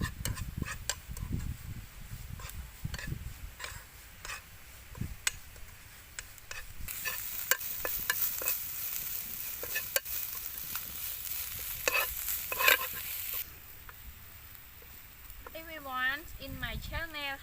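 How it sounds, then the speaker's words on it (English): Insects fried and stirred with other ingredients in a pan, a steady sizzle with scraping stir strokes and clicks throughout, with talk over parts of it and a brief high chirping near the end. "First we fry it and then we mix ingredients like you can see"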